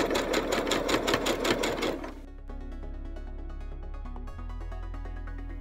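A sewing machine stitches the hem of a backless evening dress with a train, first in a fast, loud, even run of needle strokes, then slowing into quieter mechanical whirring and clicking.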